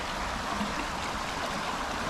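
A steady, rushing wash of a flowing creek running high during Cyclone Alfred in Australia, continuous and broadband, with no breaks or voices.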